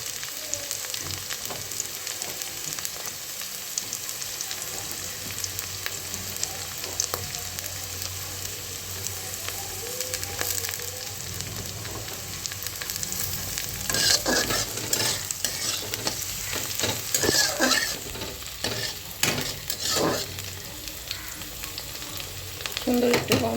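Green chillies frying and being stirred into masala for a restaurant-style potato dish: a long, steady sizzle with repeated scraping and clattering stirs that grow busier toward the end.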